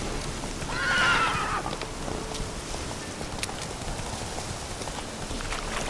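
Roach, the horse in The Witcher 3, lets out one loud whinny near the start, followed by soft hoof clops and scattered outdoor ambience.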